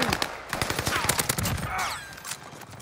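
Automatic gunfire in the shooter game Warzone, with a Marco 5 submachine gun in play: fast, dense bursts of shots, close and sharp at first and thinning out near the end, with chaotic battle noise beneath.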